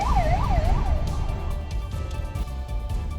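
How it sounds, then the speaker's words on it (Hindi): An ambulance siren wails in a rising and falling pattern for about a second, loud over the rumble of road traffic. The traffic noise then continues alone. "पीएम मोदी ने भी मानवता और संवेदनशीलता का परिचय देते हुए एम्बुलेंस को रास्ता देने को कहा"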